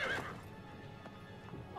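A dying horse in Assassin's Creed: Brotherhood gives a short, faint whinny, followed by a few scattered hoof thuds at close range.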